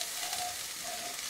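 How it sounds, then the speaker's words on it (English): Onions coated with turmeric sizzle steadily in a cooking pan as they are stirred for a potato curry, a continuous close frying hiss with no talk over it. "And now I'm going to quickly stir this."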